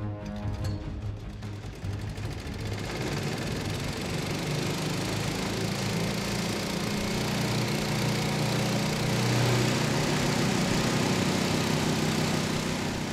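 An engine-driven pump runs in a remote valley as part of a river diamond mining setup, a loud, continuous mechanical drone with a rough, rattling edge that holds steady throughout.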